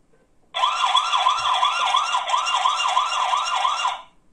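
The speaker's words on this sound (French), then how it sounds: "Elle a une sirène intégrée." A built-in siren on a XiaoVV Q12 budget security camera wails loudly and steadily for about three and a half seconds, a rapid repeating up-and-down electronic tone heard alone and close.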